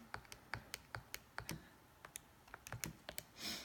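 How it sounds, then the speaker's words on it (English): Someone types a number on a computer keyboard: a quick, irregular run of soft, close key taps, closing with a brief muffled rustle. "let me type that in"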